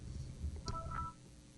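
Short burst of telephone keypad dialing tones, a few brief beeps in quick succession, fairly faint over a hushed room during a committee meeting.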